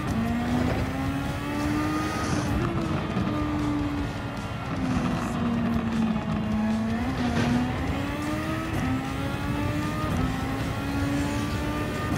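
Honda Super Formula race car in a Fuji Speedway racing game, engine screaming loud and steady with rising and falling pitch through gear shifts, continuous and close with no talk over it.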